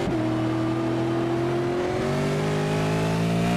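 A V8 Supercar in a racing simulator at Oschersleben revs hard, its engine note climbing steadily through the gears, loud and continuous with no talk.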